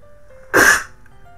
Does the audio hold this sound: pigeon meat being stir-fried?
no